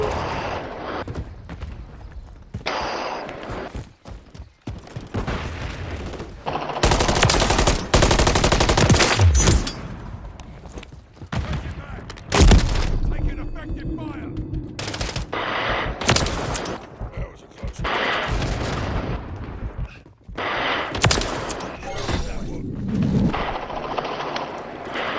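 Rapid automatic gunfire from Modern Warfare 3 comes in repeated loud bursts and fusillades mixed with game effects, while players talk over it.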